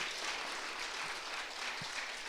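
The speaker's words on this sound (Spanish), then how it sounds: "Alguien vino a alabar a Jesús, que le aplauda fuerte, que lo celebre fuerte esta noche," Congregation applauding during a church worship service, a steady, even wash of many hands clapping that holds for a couple of seconds at moderate distance.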